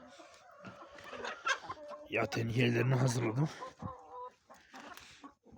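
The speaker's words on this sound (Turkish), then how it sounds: "Maşallah benim şu güzel maşallah tavuğuma bak" A hen clucks in short bursts near the microphone, with one louder, drawn-out squawk in the middle, while someone talks over the sounds.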